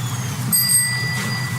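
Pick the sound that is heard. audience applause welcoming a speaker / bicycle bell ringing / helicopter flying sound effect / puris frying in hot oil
bicycle bell ringing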